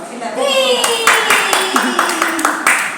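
A child claps hands in a quick run of about a dozen sharp, close claps while voices talk and a young child babbles over them, at a therapy centre.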